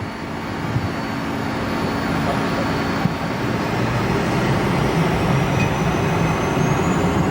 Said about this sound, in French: Le décollage est immédiat.